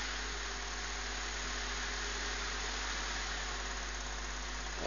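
A small crossflow fan motor running on about 9 to 12 volts on a bench, giving a steady, continuous whirring hum with a constant tone and a low buzzing underlay, close and unbroken.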